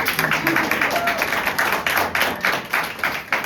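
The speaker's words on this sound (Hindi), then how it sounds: "आप ताली बजा सकते हैं" A church congregation at a women's Sunday service claps together in a steady, fairly loud patter of hand claps, with talk carrying over and under it.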